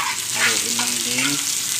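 Bamboo shoots and ginger sizzle steadily in a hot pan while being stirred, a close, continuous frying hiss with scraping strokes running through it.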